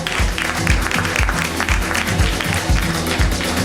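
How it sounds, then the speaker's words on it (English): Clapping from a conference audience at a media summit fireside chat, with rhythmic, fairly loud hand claps over a thumping musical beat. "give a huge round of applause"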